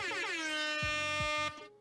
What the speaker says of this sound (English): some air horns